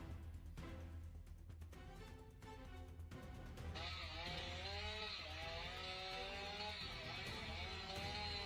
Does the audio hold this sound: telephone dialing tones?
no